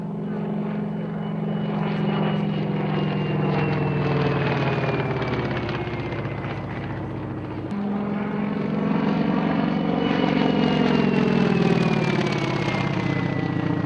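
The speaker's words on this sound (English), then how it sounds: "The Wirraway, powered by an Australian version of the Pratt & Whitney Wasp radial engine" A Wirraway trainer plane with a Pratt & Whitney Wasp radial engine drones loudly and steadily at an air race, its pitch sliding gradually as the aircraft passes.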